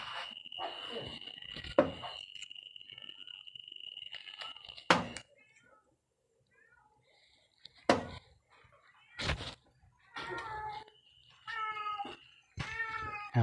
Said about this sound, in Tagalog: Pusa ingay.